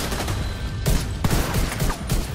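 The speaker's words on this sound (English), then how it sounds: "They got a sniper turret." Sniper turret fire in The Division 2: heavy single shots punch through a dense wash of battle noise and effects, loud and close, in a busy firefight.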